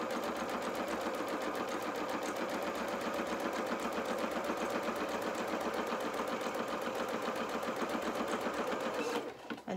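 A sewing machine runs zigzag stitching down a fabric edge in a steady, fast mechanical whir of rapid needle strokes, loud and even for about nine seconds before stopping abruptly.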